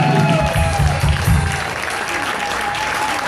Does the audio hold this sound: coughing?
no